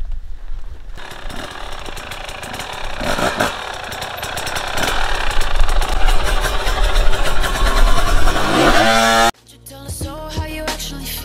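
An enduro motorcycle's engine revs hard while climbing an obstacle, a loud rough roar that builds and surges for several seconds before cutting off abruptly to a lower idle.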